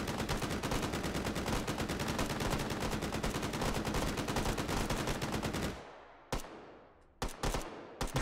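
Rapid bursts of gunfire from the VR shooter game Hot Dogs, Horseshoes & Hand Grenades on HTC Vive, a dense continuous volley for several seconds, then a few separate sharp shots with short pauses between them.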